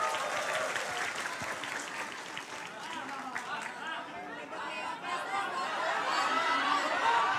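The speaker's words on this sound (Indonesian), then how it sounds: "Tepuk tangan sekali lagi buat Antonius." An audience at a public question-and-answer forum gives sustained applause. The clapping is steady and fairly distant, with murmuring chatter underneath.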